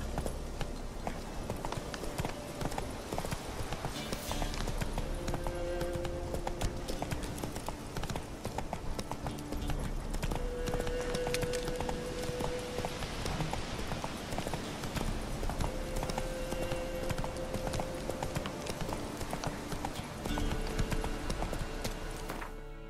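Hoofbeats of a horse galloping steadily in The Witcher 3, a continuous clip-clop rhythm that runs the whole time over a dense bed of game music and ambience, with brief neighs mixed in.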